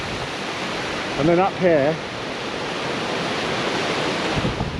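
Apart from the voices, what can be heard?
rushing white water of a mountain stream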